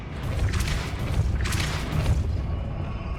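In Hogwarts Legacy, two close Depulso spell blasts land about a second apart, each a sharp airy burst over a dense low rumble, loud and without speech.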